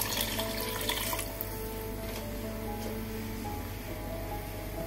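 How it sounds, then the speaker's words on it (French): Water poured into a cooking pot of Moroccan-style calf's feet, a steady continuous rush and splash that starts with a brighter burst and then settles into an even pour, close by with no talk. "On va rajouter encore de l'eau parce que là c'est pas suffisant"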